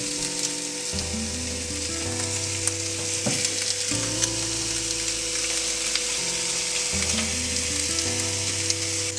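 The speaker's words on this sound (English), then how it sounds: "And you can hear that sizzle," Steak sizzles loudly and steadily on a hot grill pan, its fat crackling, a dense crackling hiss with a low hum underneath, close and continuous.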